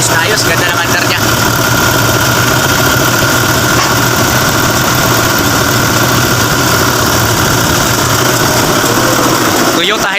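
A Toyota Hilux 4x2 engine idles steadily and loudly at close range, with a continuous even rumble throughout.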